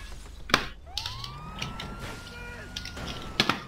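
A police siren wails in a GTA 5 street scene, a rising and falling tone sounding at moderate distance under scattered impacts and background game noise.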